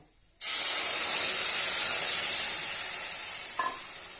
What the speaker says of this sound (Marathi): आता आपण यामध्ये हे जे दही फेटून घेतलेली आहे ती घालूया